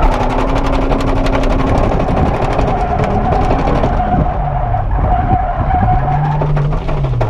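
A car drifts on the Ebisu Circuit track, its engine droning loudly while tires squeal in long, wavering howls that rise and fall as it slides.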